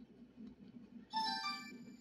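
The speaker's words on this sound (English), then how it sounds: "The phone's ringing." A telephone starts ringing partway through with a bright, warbling electronic tone. It is fairly faint and sits over a low, steady hum indoors.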